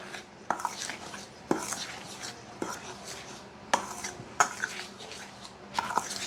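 Butter and baking powder being worked into flour in a bowl, a series of sharp, irregular knocks and scrapes of a utensil against the bowl, close and fairly clear, with faint talk now and then.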